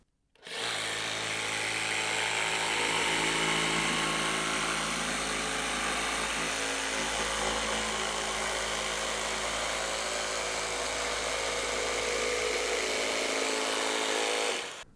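A Festool CARVEX jigsaw with a circle-cutting compass saws around a curve, giving one loud, steady buzzing whine that holds for about fourteen seconds before stopping.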